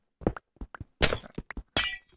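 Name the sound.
blocks being broken in a block-building video game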